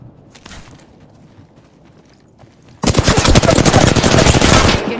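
Automatic gunfire in the video game Apex Legends bursts in abruptly partway through, loud, dense and continuous after a quieter stretch of low rumbling ambience.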